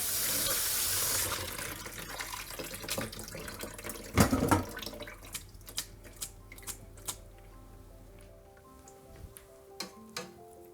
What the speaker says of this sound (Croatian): Malo ćemo ih oprati pod hladnom vodom